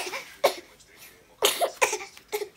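A baby gives a few short, faint coughs in scattered bursts, close by, with fussing sounds between them.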